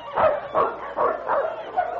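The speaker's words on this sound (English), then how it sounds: "Do you hear that? A dog team." A sled dog team barks in an old-time radio drama set on a polar expedition, with four or five loud, rhythmic yapping bursts close by and no break between them.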